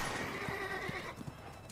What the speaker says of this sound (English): There goes your horse.